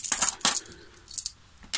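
Several £2 coins drop and clink onto a hard surface, giving a few bright, close metallic clatters separated by short pauses.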